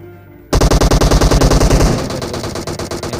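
An M249 machine gun fires in a video game, cutting in suddenly as a loud, rapid, steady burst of close shots that keeps going with a slightly softer, denser rattle toward the end.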